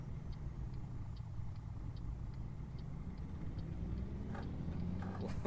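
A 625-horsepower truck engine in American Truck Simulator pulls away in sixth gear, a low, steady droning rumble that rises slightly in pitch as it accelerates, fairly quiet with no voices.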